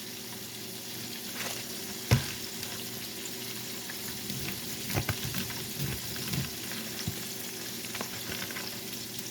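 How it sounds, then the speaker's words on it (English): Salmon fries in a pan with a steady, soft crackling sizzle, fairly faint, broken by a few sharper clicks and pops. "while the salmon is frying."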